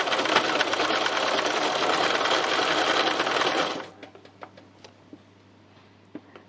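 A sewing machine runs fast and loud for about four seconds during free machine embroidery, its rapid needle stitching a dense whir, then stops, leaving faint clicks and handling noises.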